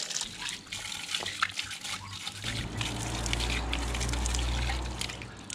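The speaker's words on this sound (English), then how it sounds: "Fresh mountain water." Steady rushing of fresh mountain water near Bilbao, a continuous trickling and gushing wash with a deeper rumble building partway through; no voices.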